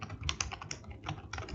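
Steady, close-up keystrokes on a computer keyboard while someone writes code for a coding exercise, an unbroken run of soft clicks.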